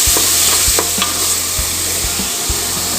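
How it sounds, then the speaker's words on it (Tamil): Soya chunks are stirred through tomato-chili paste in a hot pan, with a strong frying sizzle and a few distinct spoon scrapes and knocks against the pan. "இப்போ இதை மீல் மேக்கர் கூட நல்லா கலந்து கொடுத்துக்கலாங்க."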